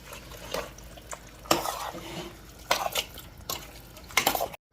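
Garlic and mushrooms being stirred in a frying pan: a spoon scrapes and clinks against the pan in several short bursts over a soft, steady sizzle, close and without talk.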